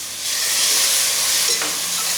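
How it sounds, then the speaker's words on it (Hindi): Milk splashed into a hot pan of gondh halwa sizzles with a steady, fairly loud broadband hiss while the mixture is stirred, with a soft scrape partway through and no voices. "जैसे ही हम ये दूध का छींटा डालेंगे फ़ौरन से हमें मिक्स करना है"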